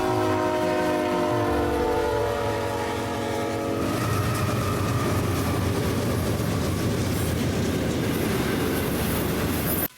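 A freight train rumbles past close by, a horn sounding at first, then continuous heavy wheel clatter and squeal filling the rest.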